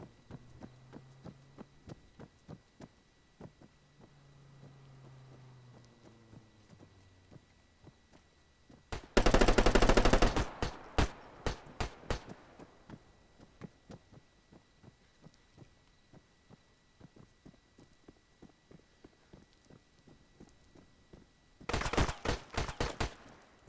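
Gunfire in the video game ArmA 3 at a construction site, with distant single shots ticking through a low hum, two loud sustained bursts of rapid fire, and brief faint voice-like tones early on.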